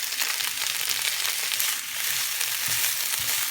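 Spinach cooking down in a pan alongside a vegan tofu scramble, a loud continuous sizzle and hiss close up with occasional faint stirring bumps.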